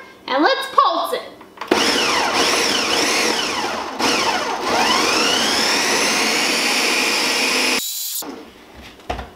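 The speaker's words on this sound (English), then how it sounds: "we're gonna put our lid on our blender here, push power, and let's pulse it" A countertop blender pulsing peach salsa ingredients, a loud whirring roar in several bursts with short pauses between, preceded by brief handling noises and a voice at the start.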